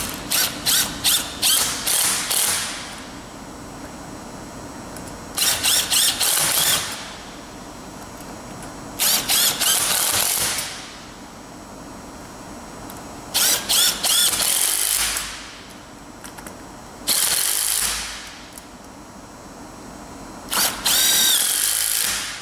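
A power wrench drives hinged plate belt fasteners, whirring in short bursts of about two seconds with pauses between them, repeated six times at close range.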